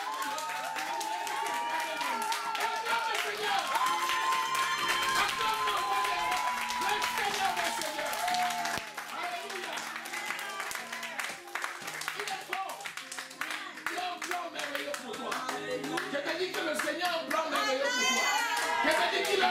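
A church congregation claps in rhythm amid singing and voices, with steady hand claps running through a lively, echoing worship gathering that includes children's voices.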